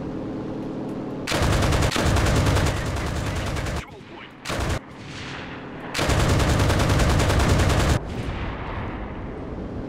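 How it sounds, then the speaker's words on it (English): Bursts of rapid gunfire at a biplane in the video game Enlisted roar in long volleys, stopping and restarting with brief gaps between, loud and dense like sustained machine-gun fire. "That was a lot of gunfire for a little biplane."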